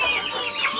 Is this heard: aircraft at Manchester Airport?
no